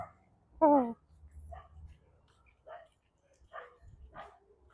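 Dog barking once sharply at moderate distance, followed by quieter yips and muffled sounds, with a person talking faintly between them, outdoors.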